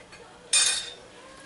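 A spoon clinks once against a dish while cannabis cream is spooned in, a single short sharp clink close by, then quiet.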